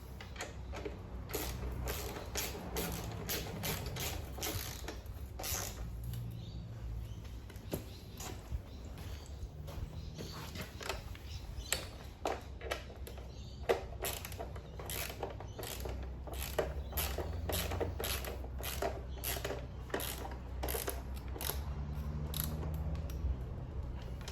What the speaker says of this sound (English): I'm going to start tightening them all up.